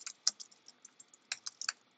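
Quick, light keystrokes on a computer keyboard tap in an uneven rhythm of about a dozen clicks, close and quiet with no voices.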